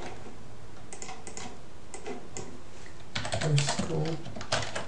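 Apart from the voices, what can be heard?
typing on a computer keyboard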